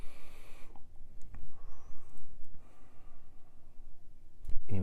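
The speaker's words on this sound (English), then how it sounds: "I'm exaggerating the sound of my breath a little bit" Slow, exaggerated breaths during a seated therapeutic breathing exercise, a long audible exhale followed by quieter breathing and soft rustling, heard up close.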